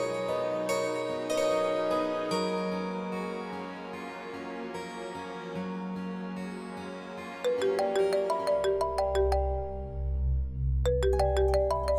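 A phone rings with an incoming call from an unfamiliar outside number in a home, playing as a bright repeating melodic ringtone over background music throughout.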